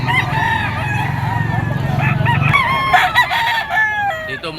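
Gamefowl crow loudly and close at a poultry market in Padre Garcia, Batangas, with several overlapping rooster and stag calls in succession over a low crowd murmur and a steady background drone.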